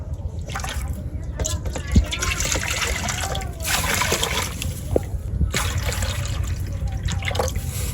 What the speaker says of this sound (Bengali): তো দিয়ে দিচ্ছি জলের ভিতর ডালগুলো